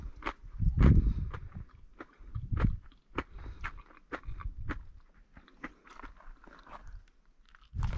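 Close, crunchy chewing of a cracker topped with a spicy mango relish, with irregular bites and mouth crunches in an outdoor setting, loudest early on and no talking.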